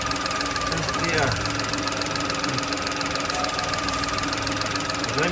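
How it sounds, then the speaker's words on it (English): VW Polo engine idling steadily with a rough, knocking rumble and a continuous faint hiss of unwanted air drawn in through an intake pipe, while a person talks over it. "can you hear that hissing sound? It's taking in unwanted air from that pipe there."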